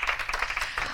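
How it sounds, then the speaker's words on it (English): An audience at a success panel event claps together for a speaker, a brief fluttering round of hands that rises and falls quickly. "Let's give her a round of applause."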